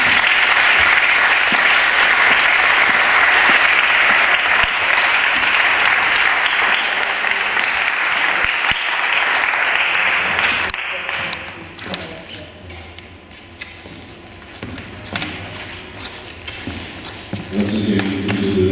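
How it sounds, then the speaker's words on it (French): Sustained applause from an audience at a club event, loud and dense for about ten seconds, then thinning out and fading as scattered claps and background voices take over. "Sous applaudissements, je pense."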